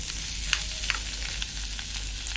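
Mashed potato stuffing is stirred in a hot pan, with a steady close sizzle and repeated soft scraping taps from the spoon at irregular intervals.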